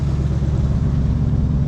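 A 1978 Ford F250 Explorer Ranger truck engine idling steadily, a loud, even low rumble close by with no pauses or revving, no talking over it.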